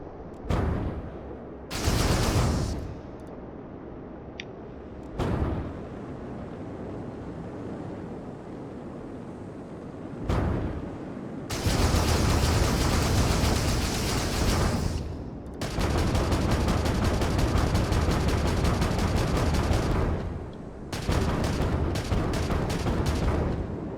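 Loud bursts of heavy nose-cannon fire in a video game, some short and isolated, others rolling into long sustained barrages, with brief lulls between.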